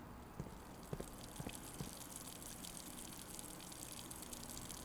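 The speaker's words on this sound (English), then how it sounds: "I can hear the water running in the kitchen." Water running back into a pool in the Blue Prince video game, a faint, steady gushing wash with a few light splashy ticks early on, heard alone without talk.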